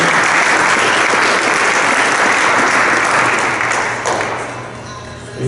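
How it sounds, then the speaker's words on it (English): Sustained applause from an audience at a basketball awards ceremony, dense and steady for about four seconds, then thinning slightly and swelling again at the end, with no speech over it. "So a round of applause for JJ for his presentation."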